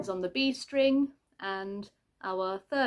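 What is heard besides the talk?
None of the usual background noises is heard.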